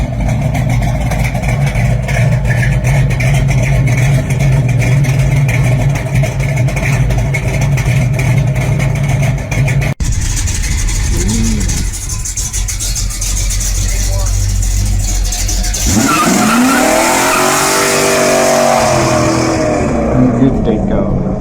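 Big block muscle car engine at a street machine event, a loud steady rumble that shifts into rising revs and harsh acceleration toward the end, with people talking underneath.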